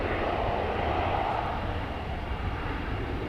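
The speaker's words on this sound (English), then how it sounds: "these planes are just taking off as soon as the tires lift from the runway" Airplane taking off from a runway at DFW Airport, a steady broad jet roar heard from a moderate distance, continuous and even with no talking.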